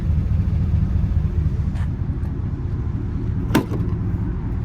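Low, steady exhaust rumble from a 2015 GMC Sierra 1500 SLE with the 5.3 V8, heard close and constant, with a couple of brief clicks over the drone.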